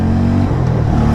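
A 2024 Royal Enfield Guerrilla 450 or Harley-Davidson X440 S motorcycle pulling through the gears, a steady low engine drone close by with a short pitch step as it shifts, heard alone.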